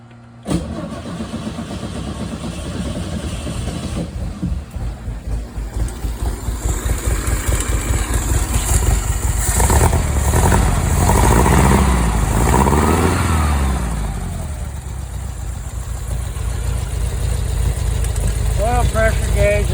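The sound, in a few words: Meyers Manx engine cold start, cranking then idling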